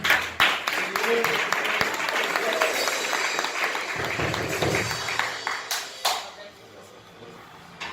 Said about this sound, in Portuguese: Receba de Deus com as palmas.